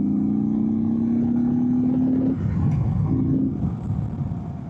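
Steady, close engine drone from a 2024 Indian Sport Chief motorcycle ridden in sport mode, a humming tone rising gradually, then dropping and returning briefly as the throttle changes under wind rumble.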